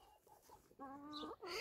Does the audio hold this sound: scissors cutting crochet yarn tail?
no